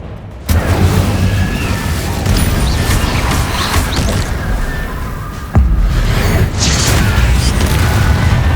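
An Incendio fire spell cast in the Hogwarts Legacy video game, a sudden loud whooshing burst that roars on, then a second sharp boom midway followed by sustained rumbling flame.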